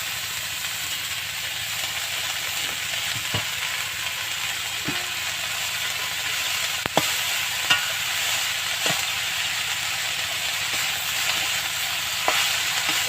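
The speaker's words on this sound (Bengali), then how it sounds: "আলু আর সিম আমি ভালো করে ভেজে নিয়েছি। এই মুহূর্তে আমি ফুলগুলো দিয়ে দেবো।" Drumstick flowers hitting hot oil in a pan already holding fried potatoes and beans, giving a steady, fairly loud sizzle and hiss with a few sharp crackles and the clink of stirring throughout.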